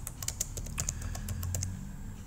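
Fingers type on a computer keyboard while entering numbers into spreadsheet cells, producing a quick run of close, crisp key clicks with no speech over them.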